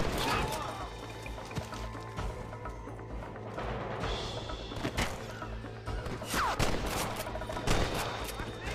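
Shootout in the Red Dead Redemption video game, with repeated gunshots and sharp cracks scattered irregularly over a busy, rumbling background while a voice speaks.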